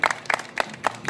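An audience at a diocesan family picnic in Radomyśl nad Sanem claps for a band in a loose, rhythmic pattern of several distinct bursts.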